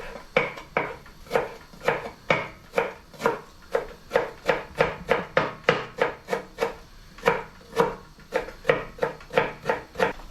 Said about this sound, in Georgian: ვჭრით წვანილებს. ეს არის კინძი,